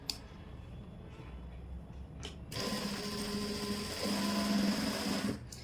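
An electric sewing machine runs in short bursts, stitching a folded strip on trousers, a close, steady whirring hum that stops and restarts.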